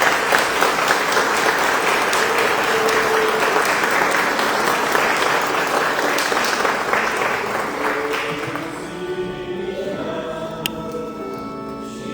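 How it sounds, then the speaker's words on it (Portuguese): A church congregation applauds loudly after an investiture Mass for a religious brotherhood, with steady, dense clapping that fades after about eight seconds into quieter room sound and a musical tone. "Uma salva de palmas para eles."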